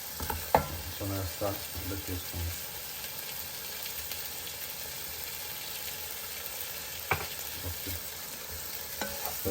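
Onions and tomatoes fry in a pan, giving a steady soft sizzle, while a spoon scrapes and stirs in a quick cluster of knocks near the start and again later.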